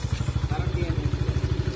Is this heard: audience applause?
no